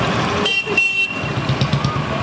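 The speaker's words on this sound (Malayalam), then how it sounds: "കാതടപ്പിക്കുന്ന ശബ്ദത്തിൽ ഹോൺ മുഴക്കി വാഹനങ്ങൾ." Vehicle horns blare loudly in heavy traffic in the centre of Kodungallur town beside the taluk government hospital, with a steady roar of engines under them.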